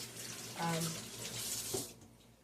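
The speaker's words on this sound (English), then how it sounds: "really they just need to be rinsed off" Tap water running briefly while a vegetable peeler is rinsed in a kitchen sink, a soft splashing hiss that swells and fades in short bursts, faint and close with a voice murmuring briefly.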